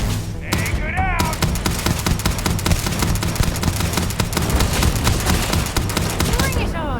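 Sustained video game gunfire, dense rapid bursts of shots and impacts that keep up loud and continuous for several seconds, with brief shouted voices near the start and end.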